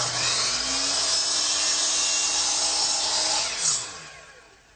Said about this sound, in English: I'll do that right here on the miter box, set at a 45-degree angle